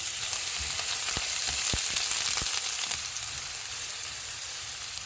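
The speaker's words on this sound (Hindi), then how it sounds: "ऑयल गर्म हो गया, इसमें प्याज डालेंगे। चूल्हे को मीडियम टू हाई रखेंगे और इनको 1 मिनट तक फ्राई करेंगे।" Onions sizzle in hot oil over medium-high heat for a spring roll filling, a constant close hissing fry with a few light clicks and pops scattered through it.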